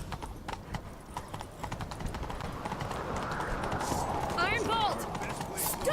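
Horse hooves gallop in a fast, steady clip-clop from a mount ridden in The Witcher 3, growing slightly louder over time, with faint voices and game sounds underneath.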